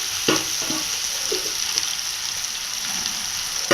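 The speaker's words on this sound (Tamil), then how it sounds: "கலந்து வச்ச வாழைக்காயை நம்ம எடுத்து எண்ணெயில் போட்டுக்கலாம்" Spiced raw plantain pieces for Chettinad vazhakkai varuval frying in hot oil with fennel, a steady bright sizzle with a few soft stirring clatters, close and even.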